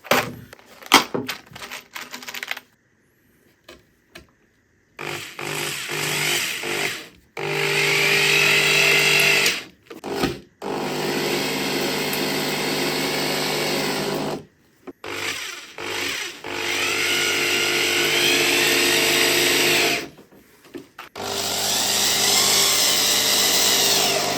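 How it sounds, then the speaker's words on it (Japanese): A power driver sinks 25mm coarse-thread wood screws into the wooden frame of a DIY octagonal two-seat dining table. Loud, close whirring runs of several seconds alternate with short pauses and a few brief opening bursts. "とりあえずこれ取り付けます。 25mm のコーススレッド。"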